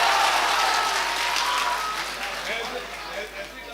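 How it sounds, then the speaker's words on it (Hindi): Crowd applause at a mushaira poetry gathering, a broad wash of many hands clapping together that fades gradually, with a voice faintly audible beneath it. "एक बार जोरदार तालियां आप अपने लिए बजाइए"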